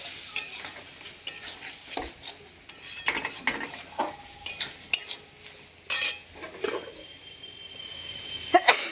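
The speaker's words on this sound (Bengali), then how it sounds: "এই মশলাটা ভালো করে কষাতে হবে।" Spice paste cooked down with a little water in a pan, a spatula scraping and stirring in irregular clinks and scrapes against the metal, close up, with a faint sizzle underneath and no voices.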